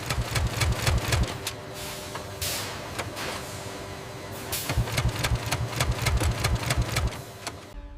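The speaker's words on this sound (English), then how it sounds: "Waistband sewing requires a curved, specialist machine that handles the three-dimensional contour of the waist" Industrial sewing machines in a busy denim jeans factory clatter with rapid, rhythmic needle ticks and a low motor hum, steady and loud throughout, with a brief lull midway before the stitching resumes.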